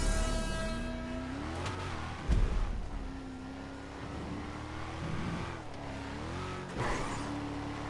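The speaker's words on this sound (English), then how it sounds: "It sounds like the engine's struggling because the gear's quite long." A Vapid Ellie car engine in Grand Theft Auto 5 drones and revs steadily, rising and falling in pitch through long gears, with a brief thump partway through; no talking.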